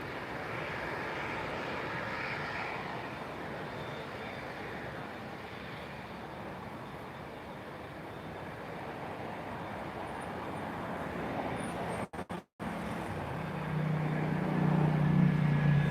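An airliner landing at Lisbon Airport on a cloudy, windy evening, a steady broad engine roar held at distance throughout, briefly cut near the end.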